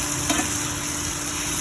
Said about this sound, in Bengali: আলু, পেঁয়াজ, গাজর, কড়াইশুঁটি আর কাঁচা লঙ্কা দিয়ে ভেজে নিচ্ছি।